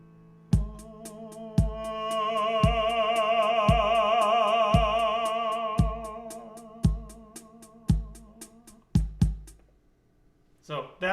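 A single sung "ah" held on one pitch swells steadily louder and then fades softer, backed by a steady beat of regular drum thumps.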